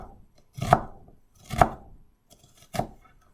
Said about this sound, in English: The closer your cuts are, the finer your finished chopped onion will be